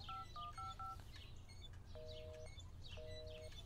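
A telephone number being dialed: a quick run of four short touch-tone beeps followed by two longer tones, clear over a low background hum.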